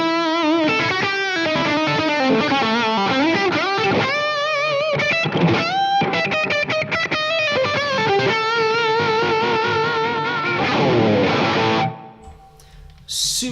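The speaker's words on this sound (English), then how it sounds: "I have a gain pedal, which is obviously pushing the front end of the amp, giving me some more gain." Electric guitar played through a Line 6 Helix LT with a gain pedal pushing the amp's front end, a loud, continuous driven passage of sustained chords and melodic runs that stops abruptly near the end.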